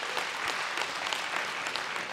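Audience applause at an evening speakers' event, a steady wash of many hands clapping, moderately loud and continuous for a couple of seconds with no talk over it.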